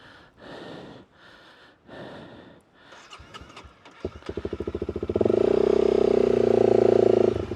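A dual sport motorcycle climbing rocks, with heavy breathing at first, then the engine revving up in rapid pulsing bursts before settling into a loud, sustained roar close by.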